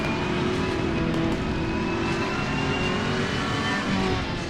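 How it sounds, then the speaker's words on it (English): A racing car engine drones steadily and loudly in a driving game, holding a constant tone as it passes close by. "Car on the right."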